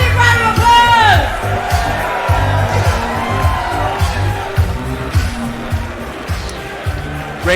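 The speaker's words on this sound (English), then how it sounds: "Give both our fighters one more massive round of applause" An indoor audience at a St Patrick's Day chessboxing event fills the hall with crowd noise, scattered cheers and whoops, and thumping low rumbles that carry on steadily around an amplified announcer's voice.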